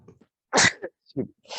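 A single sharp, close sneeze bursts out, with a short breathy sound just after and a voice starting at the very end.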